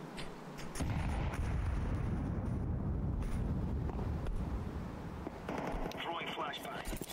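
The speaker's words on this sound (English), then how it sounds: "Grenade out." Grenade blast in Counter-Strike 2 on the Overpass map, a loud broadband boom that rolls into a sustained rumbling roar lasting several seconds, with faint in-game sounds at the tail.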